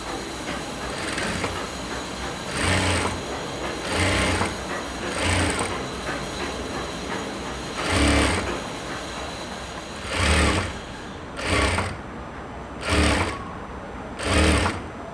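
A sewing machine stitches a cross piece onto a layered lehenga skirt, running in repeated short bursts of rapid whirring with brief pauses between, close and fairly loud.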